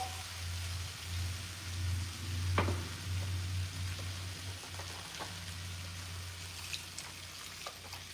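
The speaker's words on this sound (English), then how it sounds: "can of tomatoes. And just stir it." Chili with canned tomatoes cooking in a pot, a low bubbling sizzle with occasional spoon scrapes and knocks against the pot, a steady hum underneath and no speech.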